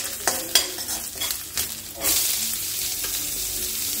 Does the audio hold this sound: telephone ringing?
no